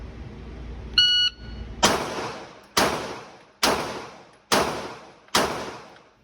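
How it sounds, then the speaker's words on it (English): Five pistol gunshots at an indoor shooting range, fired at a 5-yard target, evenly spaced loud cracks with ringing decay, preceded by a short electronic beep signaling the start. "It's 5 shots at 5 yards."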